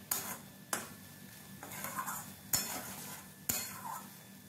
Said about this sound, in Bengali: এখন একবার সমস্ত কিছু খুব ভালো করে নাড়াচাড়া